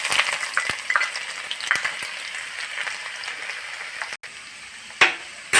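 Thinly sliced ginger and curry leaves sizzle in a pan of hot oil for kozhuva pickle, a steady crackling hiss broken by sharp spatters and a few stirring clicks.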